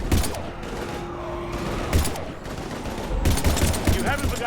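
Mass Effect 3 gunfire crackles in sustained bursts of rapid shots over a steady game soundscape, loud and close, with a brief lull in the middle before heavier firing resumes.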